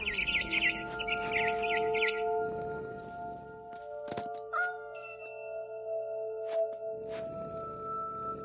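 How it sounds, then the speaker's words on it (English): A barn swallow in a video game gives a few quick, bright chirps near the start, followed by sparse chiming tones and soft ambient game sounds. "It was a barn swallow going back to her nest."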